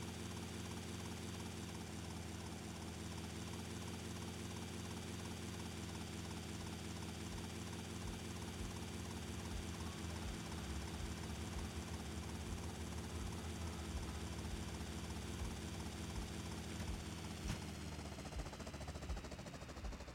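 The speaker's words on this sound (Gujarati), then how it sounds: "આપણે નીચે ઉતાર લઈએ હેલિકોપ્ટરને" Helicopter in GTA Vice City, its rotor thrum and engine droning steadily and loudly throughout as it flies and comes down to land, with no talking.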